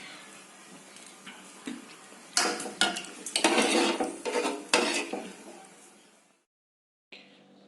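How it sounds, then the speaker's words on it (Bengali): Boiling tomato and potato curry is stirred in a pot, a spoon clattering and scraping against the metal in a dense middle burst, quieter strokes before and after, then a brief silence and a short final knock. "ভালোভাবে এটা নেড়ে মিশিয়ে দিতে হবে"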